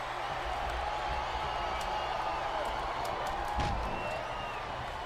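Steady crowd roar from a capacity arena audience in the wrestling video game WWE SmackDown vs RAW 2008, a continuous wash of cheering with a brief swell near the end, no clear speech over it.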